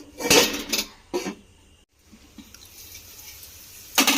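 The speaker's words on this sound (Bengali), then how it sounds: "তো এবারে ঢাকা দিয়ে দেব আমি।" A lid is set onto a cooking pot of potatoes and chhatu, giving a few sharp metallic clatters close by, a quiet pause, then one more clank at the end.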